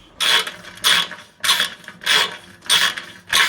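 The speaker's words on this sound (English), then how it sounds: "Again, you got to hold it because it'll do the ratchet thing." Ratchet wrench tightening a running board bolt on a Tesla Cybertruck, six evenly spaced bursts of close, bright ratcheting clicks about half a second apart, with no talking.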